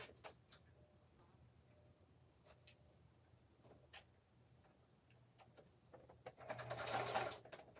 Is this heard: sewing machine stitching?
yes